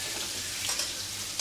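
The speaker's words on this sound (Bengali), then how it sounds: "আলুটা ভাজা হোক" Potatoes fry in a pan on a home kitchen stove, giving a steady, close hiss of sizzling oil with a few faint stirring scrapes and no voices.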